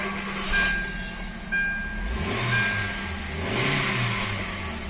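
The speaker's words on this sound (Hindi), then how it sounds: "फिर से गाड़ी को हम ऑफ करेंगे, फिर एक बार स्टार्टर मार के देखेंगे।" A Hyundai i20 engine, after a blown 10-amp fuse was replaced, cranks briefly, catches and settles into a low idle with a few revving swells, heard close and alone.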